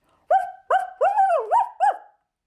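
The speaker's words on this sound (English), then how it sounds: "Perry ran over to one of the trees and started barking." A dog barks five times in quick succession, close and loud, with brief pauses between barks and no other sounds.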